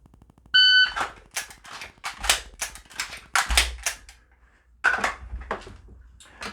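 Pistol shots fired during a draw-and-reload drill: a few sharp, loud reports spaced apart with a pause for the reload between them, heard near and alone.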